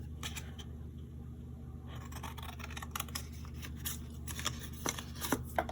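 Scissors snipping through a cardboard box template, a run of crisp irregular cuts close by over a low steady background hum.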